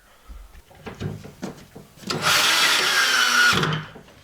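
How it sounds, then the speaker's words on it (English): Power drill driving screws to fix a closet cabinet to the wall inside a school bus conversion, a few short knocks and taps first, then one loud sustained whirring drill run of about a second and a half, close up. "then we can then screw it to the wall"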